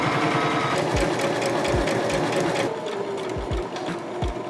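A sewing machine stitches fabric in a steady, rapid mechanical chatter, close and continuous with brief pauses, and no talking.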